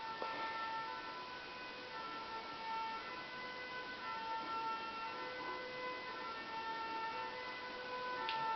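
Many sirens wail together outdoors, their steady overlapping tones drifting faintly from a distance and holding through the whole stretch, with no other foreground sound.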